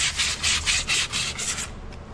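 Sandpaper is rubbed by hand across a surface while prepping for Bellattex concrete countertops, giving about seven rhythmic scratchy back-and-forth strokes, close and clear, before stopping.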